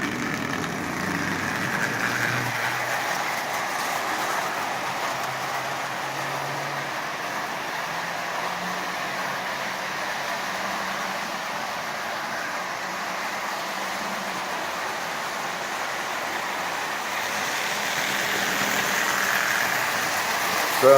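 A scratch-built Marx Custom 490 toy train assembled from parts runs around its track pulling original tin litho cars, giving a steady, even mechanical whir and rail rumble throughout without pause.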